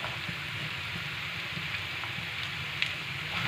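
Finely chopped onions frying with potatoes in a pan over low heat, a soft continuous sizzle with faint crackles, fairly quiet and steady, no talking.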